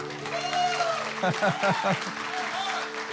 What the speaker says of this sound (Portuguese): Vamos dar uma salva de palmas para ele aqui.